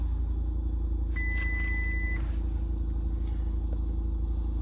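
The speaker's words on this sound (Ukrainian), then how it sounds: "Двигун працює ідеально." A 2019 Skoda Scala engine idles steadily with a low, even hum, with a brief electronic beep near the start.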